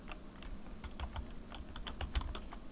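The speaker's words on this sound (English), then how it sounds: "I change the location to the local server, and I type administrators." Keys tapped on a computer keyboard while setting up a client machine, a quick irregular run of soft clicks up close in a quiet room.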